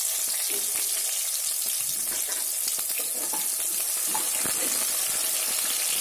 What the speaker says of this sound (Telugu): ఇప్పుడు 2 ఆనియన్స్ చిన్న ముక్కలుగా కోసుకున్నాము, అవి వేస్తున్నాము.